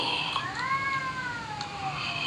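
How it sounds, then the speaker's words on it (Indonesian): A single drawn-out cat meow, rising then falling, heard at moderate distance over a steady background hum. "Iya, kedengeran ya suara kucingnya."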